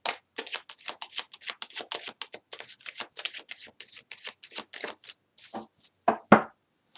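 Tarot cards being shuffled by hand, a rapid run of crisp riffling flicks and soft slaps close to the mic, with a few louder knocks at the end.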